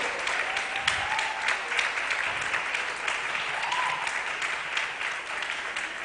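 A conference audience at a female founders and funders pitch event claps steadily as a presenter walks on stage, a dense, even wash of applause with a few scattered whoops.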